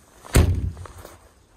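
A vehicle door swings shut with a single heavy thud, close by and loud, fading quickly into quiet with a faint rattle afterward.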